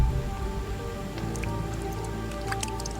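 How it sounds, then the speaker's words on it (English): Steady rain patters down on Singapore's jungle forest with scattered drips and splashes close by, a dense wash of noise over a low background hum. "Rain."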